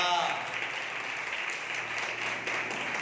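Church congregation at a Sunday service clapping in praise: a continuous wash of many hands across the hall, steady and moderately loud for about three seconds, with faint voices mixed in underneath.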